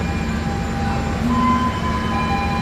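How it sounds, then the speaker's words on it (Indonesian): Sembrani passenger train departing Surabaya Pasar Turi for Jakarta, a steady close rumble of rolling carriages with a sustained metallic wheel squeal rising over the wash of rail noise. "Kereta api Sembrani berangkat dari Surabaya Pasar Turi sampai Jakarta"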